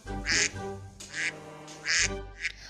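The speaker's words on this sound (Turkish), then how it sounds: "ördek sesi geliyor" A duck quacks loudly and close, four raspy calls in a short irregular series.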